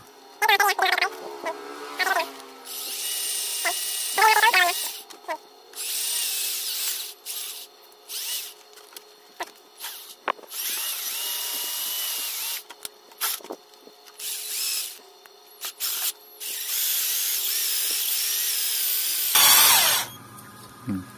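Desk fan shaft being rubbed with sandpaper during repair of a humming electric fan that won't spin, giving bursts of close scratchy friction noise, some short and some sustained, alternating with pauses.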